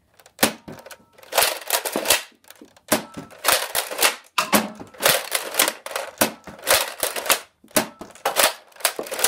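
Nerf Trilogy blaster firing shells: sharp plastic clacks and snaps in quick clusters, pump, fire and shell ejection repeating roughly every second, close and dry with short pauses between shots.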